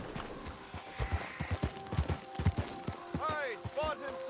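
A horse's hooves clip-clop at a walk in Red Dead Redemption, an even run of soft close thuds with a faint whinny-like tone near the end, alongside quiet game ambience.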